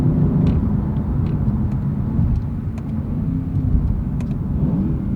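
A 2023 Lexus IS500 engine pulling hard on a canyon road, a loud, steady low rumble with rising intake and exhaust roar, continuous without speech.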